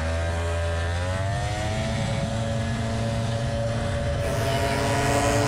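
Mopeds roar past at the Glemseck moped race, a loud sustained buzzing engine drone with pitch climbing as they accelerate, dense and continuous throughout.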